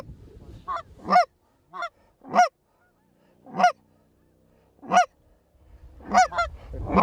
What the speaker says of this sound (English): We had a nice-sized flock over the field up high, and Brandon's decoy spread did the trick.